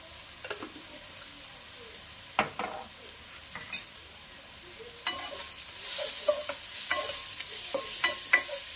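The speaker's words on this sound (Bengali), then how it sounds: "এটা একটু ভাজা ভাজা হবে।" Capsicum frying with turmeric and ground coriander in a pan, a steady sizzle under repeated scraping strokes of a spoon stirring the mix, close and fairly quiet with no talking.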